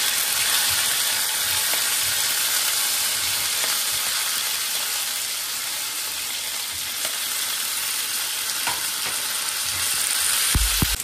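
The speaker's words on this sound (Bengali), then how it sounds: "হিংটা একটু গরম হলে আমি এর মধ্যে দিয়ে দেবো ফুলকপিগুলো।" Loud, steady sizzling of cauliflower frying in hot oil with asafoetida, a dense crackling hiss lasting throughout with occasional small clicks and stirring sounds.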